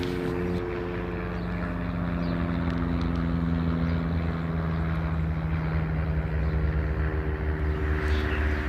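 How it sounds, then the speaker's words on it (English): A propeller airplane drones steadily overhead near a railway bridge and siding, a continuous low engine hum with strong harmonic tones that holds level throughout, with no talk. "While I was waiting, I recorded this airplane."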